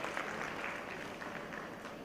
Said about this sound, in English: this man needs a big round of applause